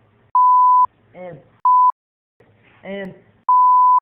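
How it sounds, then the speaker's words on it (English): Three flat, steady censor bleeps, loud and clean, with short bursts of speech between them. "So that's gonna be a beep right there."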